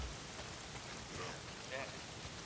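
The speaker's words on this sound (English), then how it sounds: "If it's not the freaks, it's the goddamn rain." Steady rain pours throughout in the video game Days Gone, a dense even hiss with faint brief tonal blips over it, no clear talk.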